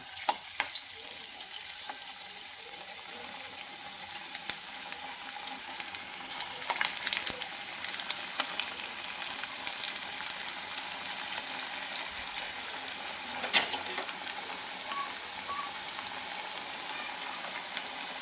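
Chana dal vadas frying in oil over medium heat, a steady soft sizzle throughout with occasional clicks and small pops, close and fairly quiet.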